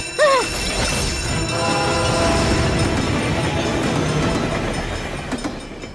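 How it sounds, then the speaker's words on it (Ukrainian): Cartoon train rolling past a level crossing, a loud continuous rumble of wheels and carriages with a brief whistle-like squeal at the start, steady and close with no speech. "Він закривається, тому що йде потяг, а гратись біля нього дуже небезпечно."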